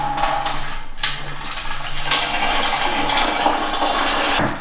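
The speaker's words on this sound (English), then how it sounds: "I'm going to put in 2 litres of the apple juice into the Pinter" Two litres of apple juice poured into a Pinter brewing keg, a steady gushing, splashing liquid stream that runs continuously and fairly loud, without talk.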